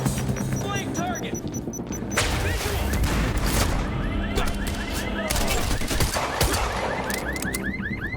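Rapid gunfire crackles in Quantum Break, dense bursts of shots and impacts over several seconds, with voices shouting in between.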